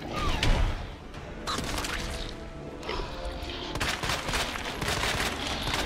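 Rapid gunfire and heavy impacts in the Resident Evil 2 Remake boss fight, dense and continuous bursts with crashing hits over a rumbling game mix.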